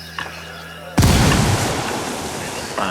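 A sudden loud explosion in the video game Ghost Recon Wildlands erupts about a second in, followed by a long rumbling roar that slowly fades, with faint voices faintly audible beforehand.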